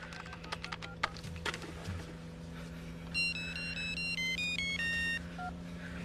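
A telephone rings indoors with a melodic electronic ringtone of several rising and falling notes, preceded by clicks like keyboard typing, with a low steady hum throughout and no speech.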